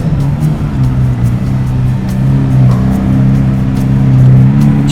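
A white Lamborghini Aventador SV Roadster with a Capristo exhaust, its engine giving a loud, deep, steady drone with a slight swell toward the end, heard alone without talk.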